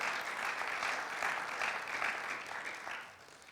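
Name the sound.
congregation applause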